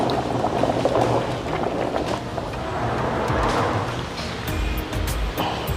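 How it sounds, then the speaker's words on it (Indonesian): Soy milk for Lombok tofu boils in its second heating, a loud, churning bubbling rush with splashes and occasional sharp clinks near the end. "Ini proses perebusan yang kedua dia."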